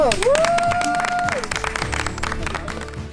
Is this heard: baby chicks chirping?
no